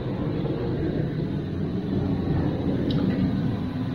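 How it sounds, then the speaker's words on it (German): An airplane passes overhead, making a loud, steady low rumble and roar that drones on without a break. "dass da ein Flugzeug gerade modsmäßig Lärm macht"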